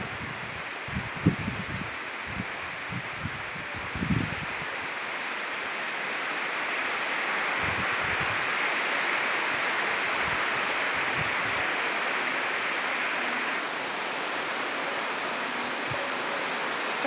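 Heavy monsoon rain pours steadily in Palakkad, Kerala, with gusting wind, a dense continuous hiss that swells slightly in the middle, with a few soft knocks early on.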